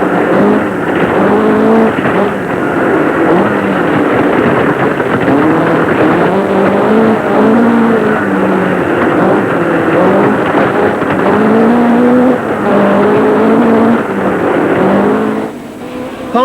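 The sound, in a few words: Vauxhall Chevette rally car driven through Yorkshire stages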